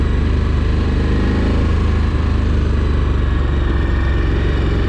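KTM 1290 Adventure S 2023 motorcycle engine running steadily, a close, loud, continuous low rumble with no gaps and no talking.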